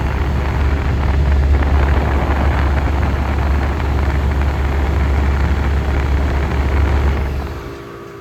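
A household air conditioner motor running on a hot day, a steady broadband whir with a low hum, loud and continuous before fading slightly at the end.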